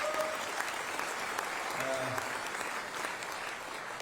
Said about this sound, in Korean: 여러분 큰 박수를 보내주시기 바랍니다